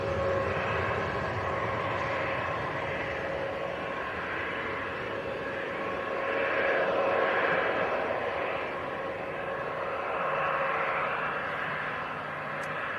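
A Jet2 Boeing 737-300 passenger jet bound for Alicante roars steadily at Leeds Bradford Airport, a loud broad engine rumble that swells gently a couple of times without fading away.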